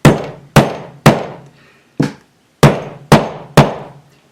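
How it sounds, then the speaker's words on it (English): A hammer drives popped nails back into drywall with seven sharp, ringing blows, the first three in a quick steady rhythm, then a pause before four more, loud and close with no talking. "all you can do is take a hammer and pound that back in"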